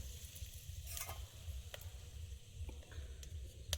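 Dried red chillies and whole cumin sizzle in hot oil in a pan, a steady crackling hiss with small pops and faint stirring scrapes heard up close.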